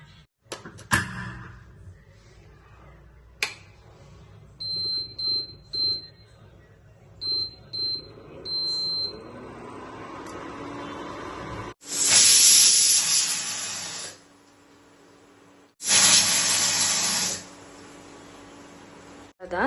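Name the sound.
pressure cooker whistling with pongal inside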